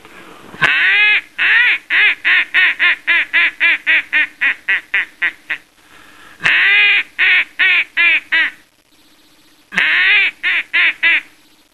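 A duck call blown in quick rhythmic series of loud, nasal quacks, one long run then two shorter bursts, imitating young mallard-style duck calls up close.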